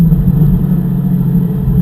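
A Lamborghini creeping along slowly in first gear, its engine a steady low rumble with mild fluctuations, close and fairly loud, with no talk over it.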